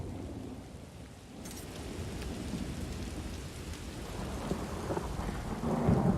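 A thunderstorm with rain in Elder Scrolls Online pours as a dense, steady hiss with deep rolling thunder beneath, growing louder toward the end, with no voices.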